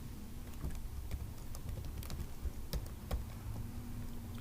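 Fingers type on a computer keyboard, producing scattered, fairly quiet key clicks at an uneven pace over a steady low background hum, with no voice.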